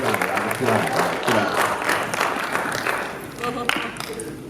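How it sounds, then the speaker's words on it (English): An audience at a boys academy assembly claps together in a loud, continuous burst, with some crowd noise mixed in. A single spoken word comes near the end as the clapping carries on. "Everybody clap it up here."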